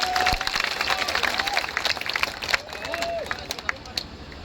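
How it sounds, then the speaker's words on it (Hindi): A village crowd at a political rally applauds loudly and continuously, with dense clapping and scattered voices and babble mixed in throughout. "एक बार जोरदार ताली बजा के हम सतपाल का हम हौसला तय करें"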